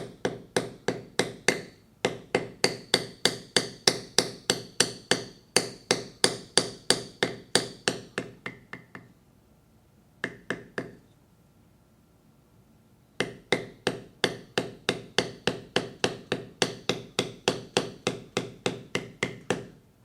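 Steady, rapid mallet blows strike a leather beveling tool as a flower petal design is tooled into leather, dozens of sharp, close, evenly spaced taps with a brief pause in the middle before the rhythm resumes.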